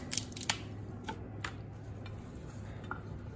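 Herb stems for a green seasoning marinade being snipped, with a few sharp, close cutting clicks early on and then sparser single snips over a quiet background.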